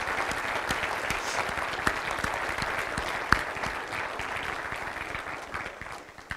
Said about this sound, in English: if we could give them all a round of applause to say thank you